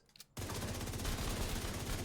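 Lexington rifle from The Division 2 firing in a rapid continuous burst, a loud, dense stream of gunshots that starts abruptly after a brief quiet moment and carries on to the end.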